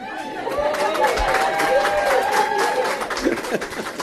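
Audience applause at a Crow Canyon Country Club event, a steady wash of clapping and crowd noise lasting several seconds, with scattered voices and chatter mixed in.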